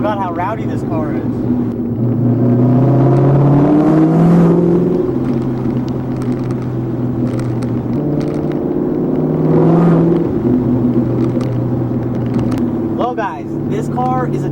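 A Cobra sports car's engine rumbles loudly while driving, its revs climbing and dropping through gear changes, with a voice heard over the engine at times.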